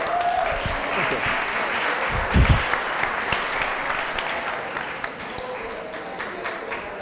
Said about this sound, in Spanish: Fuerte el aplauso para Rogelio.